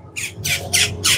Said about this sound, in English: The birds are saying the same thing.